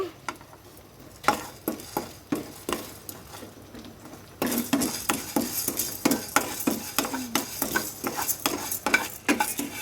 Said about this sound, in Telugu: మనం లో ఫ్లేమ్లో పెట్టుకొని ఇవైతే వేయించుకోవాలి